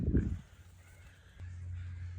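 A single crow caws nearby, loud and brief, followed by a low steady rumble in the background.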